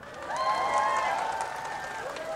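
Audience at a corporate family day event applauding and cheering for company directors, a steady crowd wash with some voices over it.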